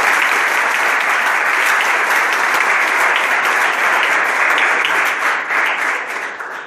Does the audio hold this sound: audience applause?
yes